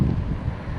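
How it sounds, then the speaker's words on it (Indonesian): A brief burst of low wind rumble buffeting the microphone, loud and muffled, with nothing else audible. "Suasana juga agak berangin."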